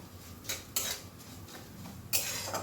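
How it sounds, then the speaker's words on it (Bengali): Metal utensil scraping and clinking against a pan while a vegetarian ash gourd (chalkumro) dish with coconut powder is stirred, a few sharp scrapes standing out over faint low background noise, no talking. "এটা দিয়েও কয়েক সেকেন্ড একটু নাড়াচাড়া করে নেব"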